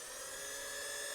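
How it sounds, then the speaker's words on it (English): An electric power sander works the bottom of a turned koa wood bowl with 120-grit abrasive, a steady high-pitched whine running unbroken and close for the whole moment, with no voices. "I'm going to power sand up through the grits on the bottom"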